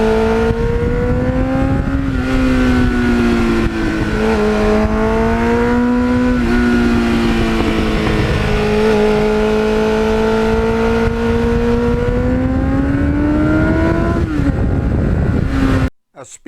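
A 1989 Kawasaki GPX750R motorcycle engine runs loud and close with a strong steady drone, its pitch rising and falling slightly as it revs, then cuts off abruptly at the end.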